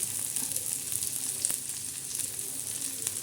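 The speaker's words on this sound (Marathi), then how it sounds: "आता आपण भाज्या आपण तव्यावर टाकणार आहे" Vegetables sizzle steadily on a hot griddle, a continuous close crackle with no voices.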